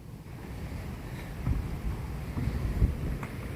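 Strong tidal back-flow of the Umfolozi River surging into a tidal channel at St Lucia, a steady low rushing wash of water with buffeting wind noise and a few louder swells, no voices.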